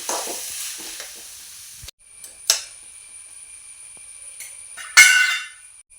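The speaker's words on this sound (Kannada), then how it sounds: "ಇಲ್ಲಿ ಈರುಳ್ಳಿ ಚೆನ್ನಾಗಿ ಫ್ರೈ ಆಗಿದೆ, ಈ ರೀತಿ ಫ್ರೈ ಆಗಬೇಕು" Onions for ghee rice fry in a pan, a close hiss of sizzling oil with a few sharp clattering stirs and scrapes, the frying fading then returning in bursts.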